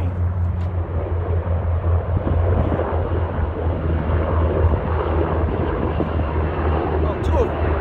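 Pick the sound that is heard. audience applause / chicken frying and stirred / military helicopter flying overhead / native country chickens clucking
military helicopter flying overhead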